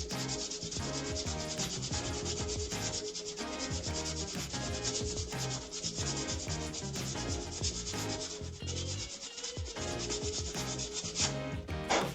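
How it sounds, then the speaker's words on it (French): Steady back-and-forth sanding rubs over the glued joint of a customised Nerf Star Wars blaster, a continuous close scratchy rasp with no talking. "il faut que j'insiste un petit peu sur le ponçage pour masquer ça"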